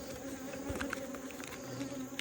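Bees buzz in a dense, continuous drone during a hive inspection, close and steady throughout with individual insects whining past, and no talk over them.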